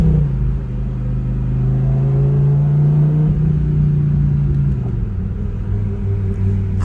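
A Lamborghini Huracán engine idles loud and close after being started, a steady low rumble with a slight drop in pitch near the end, no talking.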